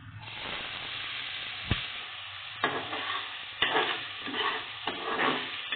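Onions sizzle in a pan with cardamom and star anise, a soft frying hiss broken by several scraping stirs of a spoon, close and fairly quiet.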